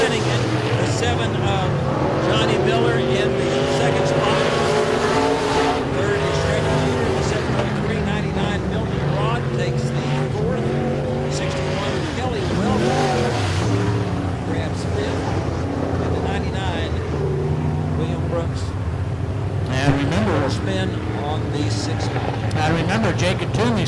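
Modified race cars at a raceway track in a KR Cup event, their engines droning loud and continuous throughout as cars exit the track, with a busy harmonic roar and some background voices mixed in.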